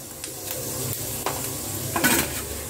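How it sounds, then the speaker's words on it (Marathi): Cumin seeds sizzle softly in a pan over a low flame, with a gentle steady frying crackle broken by a few light stirring scrapes and clinks. "इथे मी पहिल्यांदा जिरा ऍड करून घेते 1 चम्मच."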